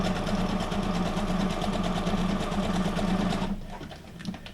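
A sewing machine stitches a honeycomb pattern onto junk-journal cards made from guest checks, whirring steadily and loud up close with a fast needle rhythm, then stopping near the end.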